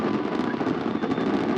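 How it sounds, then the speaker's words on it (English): Fireworks crackle and boom continuously over a crowd's murmur at a race event, forming a loud, dense wash of bursts and rumbling pops with no clear gaps between them. "I'm a bit starstruck by the fireworks here, Andrew."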